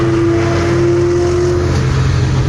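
A Terminator Cobra fitted with Borla Atak exhaust holds a loud, close, steady engine rumble with a deep droning tone throughout.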